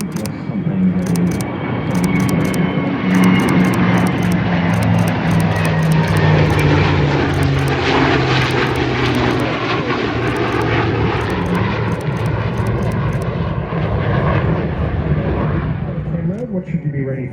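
A Super Hornet and an F-35 fly together in formation at an Australian Defence Force air show display, their engines a loud, sustained roar that swells and holds throughout, under an announcer's commentary and crowd noise.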